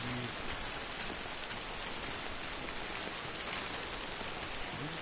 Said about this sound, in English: I'm just gonna have to run in the rain with no gear.